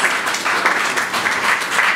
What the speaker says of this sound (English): Can we have a huge round of applause for Maxis Movies?